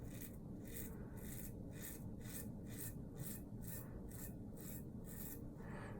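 A safety razor scrapes across facial stubble in a steady series of about a dozen quiet, rhythmic rasping strokes, heard close up with no talk.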